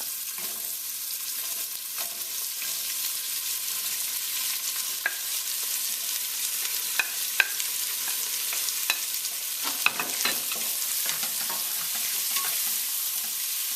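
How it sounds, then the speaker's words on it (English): Finely chopped onions frying in a pot for a chicken curry, a steady crackling sizzle with repeated spoon scrapes and light clinks as they are stirred, close by and without any speech. "Until all the onions are nice and soft. Just keep stirring, make sure they don't burn."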